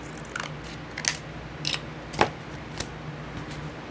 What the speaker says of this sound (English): now I'm going to take the scissors I hid from myself, and I'm going to cut it.